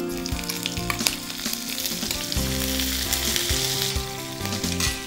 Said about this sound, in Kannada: ರೋಸ್ಟ್ ಆದರೆ ಚೆನ್ನಾಗಿರುತ್ತೆ ಒಗ್ಗರಣೆನೇ